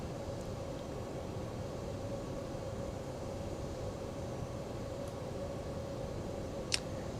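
A steady, broadband engine drone from an Airbus A320 Neo in the X-Plane 11 flight simulator, flying Ibiza to Madrid, holds at an even level throughout with a faint tonal hum and one brief click near the end.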